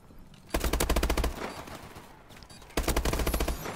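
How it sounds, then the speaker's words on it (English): Shotgun fire in the video game Call of Duty: Advanced Warfare, two loud bursts of rapid repeated blasts close up, separated by a quieter gap of game ambience. "They like all using shotguns"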